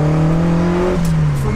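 Lotus Esprit Turbo engine droning steadily while driving, with a strong low harmonic hum that holds and then dips slightly as revs shift, close and loud inside the car, no talk.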